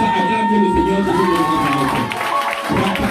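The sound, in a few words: congregation acclaiming and cheering for God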